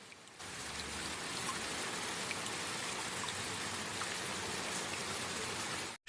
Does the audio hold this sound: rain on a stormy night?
yes